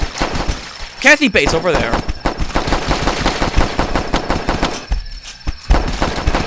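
Rapid automatic gunfire from a video game, loud and sustained bursts throughout, with someone shouting and talking over the shots.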